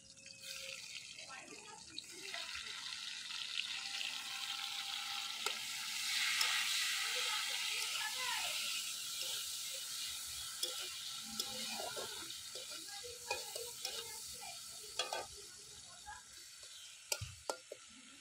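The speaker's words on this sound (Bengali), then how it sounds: "পেঁয়াজটা লাল হয়ে এসেছে, দিয়ে দেব টমেটো কুচি।" Chopped tomatoes go into browned onions in a frying pan, giving a steady close sizzle and frying hiss with occasional stirring scrapes and clinks, while a voice talks over it.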